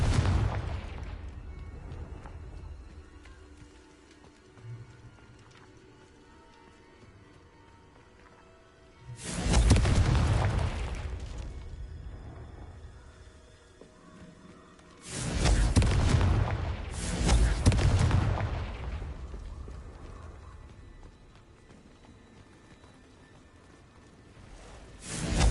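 Several heavy explosive blasts from a Confringo blasting spell in a video game, booming loudly around 9, 15 and 17 seconds with low rumbling tails, separated by quieter ambient stretches.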